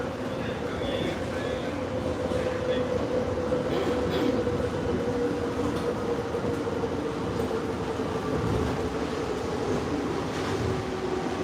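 An LRT train on the Ampang Line in Kuala Lumpur rumbles steadily along the track on a rainy day, a continuous close rolling roar lasting throughout with no clear break.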